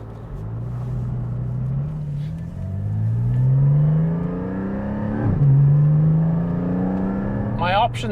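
A Porsche 718 Spyder engine pulls hard while driving, its note rising through gears with a sharp shift partway through, loud and close from inside the car, followed by a brief high whine near the end.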